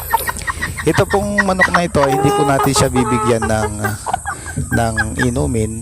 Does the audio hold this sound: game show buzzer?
no